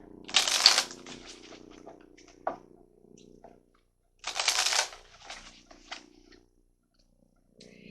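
Tarot cards shuffled in two bursts of fast riffling flutter, separated by a pause with a few soft taps and card handling, close up and moderately loud.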